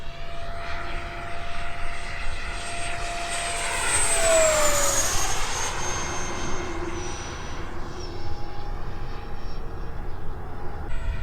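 A Freewing F-4 RC model jet on an 8s setup at full throttle, its ducted-fan whine rising loudly as it passes close and then fading with a falling pitch while the model pulls away.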